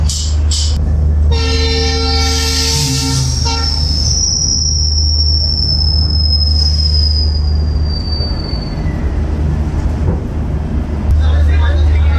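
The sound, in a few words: tourist special train departing Siliguri Junction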